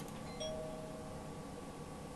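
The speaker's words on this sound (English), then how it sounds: "Ring the bell." A video game doorbell rings at a house in a detective game, one short chime tone early on, then a steady faint hum through the rest, with no talk.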